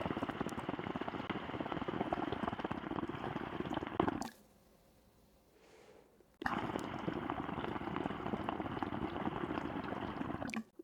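Water bubbles vigorously through a solid-plate POD diffuser under a bowl, a dense, loud, close churning that stops abruptly for about two seconds of near quiet, then resumes at full strength.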